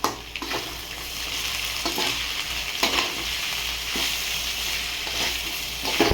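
Potato curry with ginger, green chilli, coconut paste, turmeric and salt is stirred in a hot pan, with a low steady sizzle under repeated scraping strokes of a spoon at roughly one-second intervals, close by.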